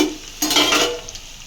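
Boiled, mashed potatoes dropped into a pan of frying onion mixture, a short burst of sizzling and stirring scrapes close by, no talking.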